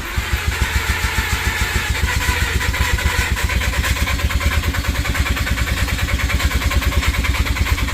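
A Mazda RX8 rotary engine cranking and trying to start after decarbon spray, with a loud, fast, even starter chug pulsing without a break throughout and the engine never catching.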